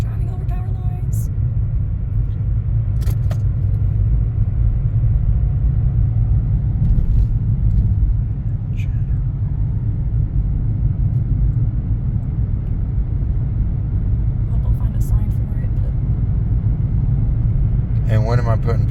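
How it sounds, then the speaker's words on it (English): A car driving on a road in Mitchell County, North Carolina gives a steady low interior rumble of engine and tyres across the whole stretch, with occasional faint clicks and knocks above it. "Driving over power lines."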